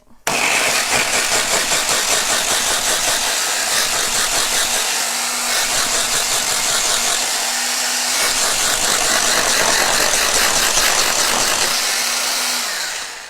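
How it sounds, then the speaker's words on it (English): A blender runs through a small batch of coconut chickpea curry ingredients, a loud, continuous high whirring with a rough buzzing edge that holds steady for about thirteen seconds. Its pitch wavers slightly as the jug is shaken, and it stops near the end. "I will now blend it, but I will shake it about because there isn't a huge amount in there and the blender might struggle a bit"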